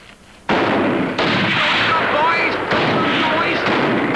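Artillery gunfire in a 1959 film opens with a sudden loud blast, followed by a continuous roaring barrage that swells again partway through and keeps going to the end.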